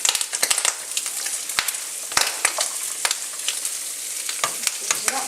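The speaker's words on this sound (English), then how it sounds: "And we'll just stir the pasta again." Pasta and bacon stirred in a frying pan with sun-dried tomato and basil, a steady close sizzle broken by sharp scraping clicks of the spoon against the pan bottom throughout.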